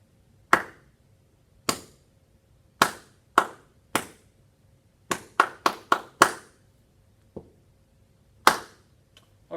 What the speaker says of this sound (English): I'm going to clap that rhythm that we have there.